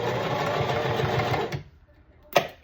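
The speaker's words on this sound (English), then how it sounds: "we're going to back stitch at the end here, so when you turn it inside out, there's no risk of the seam just popping open" Sewing machine back stitching the end of a blanket seam, a steady close mechanical whirring hum that stops abruptly, followed by a short click or clunk.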